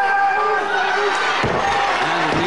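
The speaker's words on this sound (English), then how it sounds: "Just listen to the crowd here now, love that." A wrestling crowd cheers and shouts during a pro wrestling bout, a loud rowdy roar with overlapping voices, while a heavy slam or thud lands on the mat partway through.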